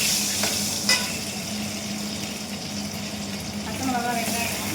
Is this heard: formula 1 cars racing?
no